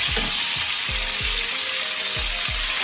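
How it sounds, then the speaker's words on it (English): Pork chops sizzling steadily in a hot frying pan, a loud continuous crackle with repeated soft low thuds spaced about every half second, no voices. "I'll get back to you guys when I'm finished frying those pork chops"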